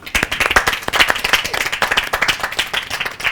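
An audience in a television studio claps for a few seconds, a close, lively burst of many hands with dense, uneven slaps and no talk over it.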